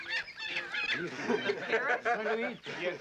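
A caged duck honks repeatedly in quick, raspy bursts, loud and close, continuing for the whole moment.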